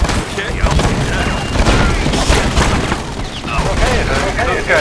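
Dense, loud gunfire in the Narco Terror video game during a co-op jungle mission, with rapid bursts and booming blasts running throughout and players talking over the shooting.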